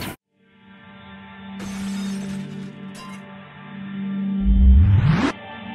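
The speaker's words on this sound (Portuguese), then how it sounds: "no outro já tava tudo quebrado. É muito rápido que o vidro quebra." Anti-vandalism armored glass is struck by an airgun lead pellet and shown in super slow motion: a steady tonal drone is broken by bursts of crackling breakage, ending in a loud rising sweep that cuts off abruptly.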